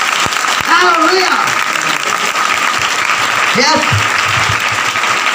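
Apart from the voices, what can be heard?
congregation clapping loudly at a church service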